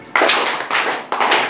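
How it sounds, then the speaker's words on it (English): Schoolchildren clap together in a classroom in three quick rounds of dense, bright clapping, each starting sharply and tapering off, loud and close. "Students, clap him."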